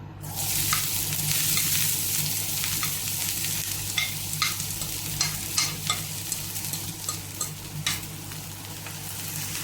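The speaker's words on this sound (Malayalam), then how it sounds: "സവാള ഒന്ന് വഴറ്റിയെടുക്കാം" Sliced onions sauté in hot coconut oil for a fish roast, a close steady sizzle broken by repeated sharp stirring scrapes and clicks of the spoon against the pan, with no voices.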